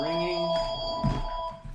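A telephone rings with a bright electronic trill, then a soft thump follows; the ring is close and fairly loud.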